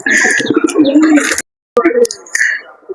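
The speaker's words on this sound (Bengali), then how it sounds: "দেখতে পারছেন সব কবুতর আদার খাচ্ছে" Pigeons in a rooftop loft coo in low, throaty rolls, close and loud, with a short silent gap before the cooing and some higher chirps resume.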